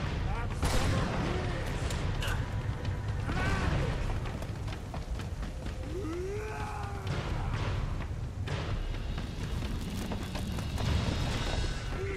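Gunfire crackles steadily during a running firefight in Uncharted 2: Among Thieves, with grenades thumping, under a constant dense mix of game action and music at moderate loudness.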